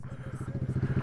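A 224cc mini bike engine revs up close, a rapid pulsing exhaust beat rising in strength over about a second, with a voice briefly over it.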